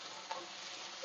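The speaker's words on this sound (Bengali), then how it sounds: "এবারে তাড়াতাড়ি কষাও" Cumin and chili fry in a pan, a faint, steady sizzle with a soft clink of stirring partway through.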